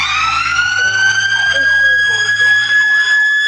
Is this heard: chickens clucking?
no